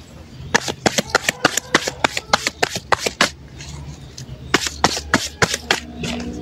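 Tarot cards are shuffled by hand in quick, crisp bursts of riffling, with a short pause in the middle before the shuffling resumes.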